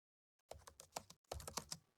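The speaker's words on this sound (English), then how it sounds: "and then turn on typing noises." Ambient keyboard typing from the Spirit City video game: two quick bursts of soft key clicks separated by a brief pause, close and quiet, with no voices.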